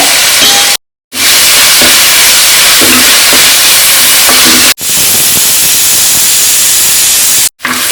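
Onions sautéing with salt in a pan for a pork roast, giving a steady broadband sizzle and hiss that cuts out briefly twice, close and loud with no talking.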